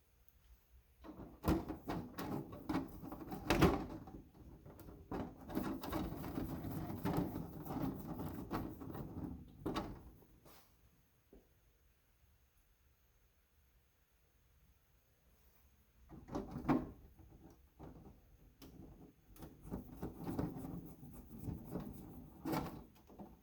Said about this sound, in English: Bolt them down.